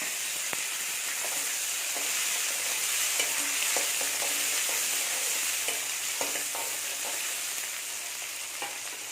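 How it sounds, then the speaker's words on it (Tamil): Small onions and tomatoes fry in sesame oil with a steady, dense sizzle and hiss, punctuated by occasional clicks of stirring against the pan. "இப்போ இதில் ஒரு 50 கிராம் சின்ன வெங்காயம், ஒரு 2 தக்காளி இதில் போட்டு வதக்கிக்கணும்."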